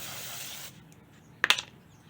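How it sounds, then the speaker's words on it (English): Carb cleaner sprays from an aerosol can into the carburetor of a Poulan Pro mower: a steady close hiss for under a second, then a brief sharp burst of spray after a short pause. "I'm just spraying carb cleaner in here."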